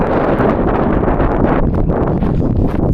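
Strong wind buffets the microphone on a high lookout in Falun, Sweden, a continuous loud roar with gusty fluctuations and no speech.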